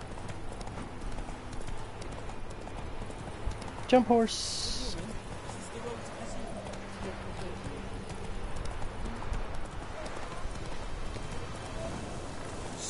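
Horse hooves clip-clop at a steady gait in The Witcher video game, sitting low under a player's talk, with a brief game sound effect near the start.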